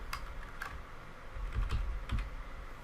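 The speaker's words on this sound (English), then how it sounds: "After typing in the number, verify that it is correct." A phone number being entered on a computer keyboard, a few scattered soft key taps and clicks at close range over a quiet room hum, no speech.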